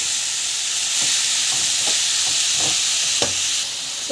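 Chopped onion, tomato, coriander and mint sauté in a hot pan with a steady broad sizzle, while a spoon scrapes and stirs in several distinct strokes; close and fairly loud, with no talking.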